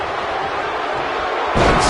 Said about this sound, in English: Sickening thud as his body is driven to the mat.